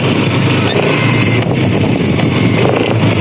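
A worn scooter with a dirty, noisy drive system runs at close range, a steady, loud, rough engine drone with continuous broadband clatter and no pauses.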